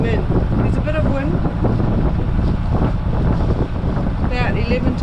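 A sailboat motors out of the channel from Musket Cove in Fiji in an 11 to 14 knot headwind, with a steady engine drone under heavy wind buffeting on the microphone and someone talking.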